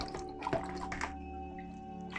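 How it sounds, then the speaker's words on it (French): Aquarium filter foam from an Aquael Versamax Mini filter being rinsed under water, with close dripping, splashing and squishing in short bursts, then a quieter trickle and a final splash, with no talking. "On rince un petit peu."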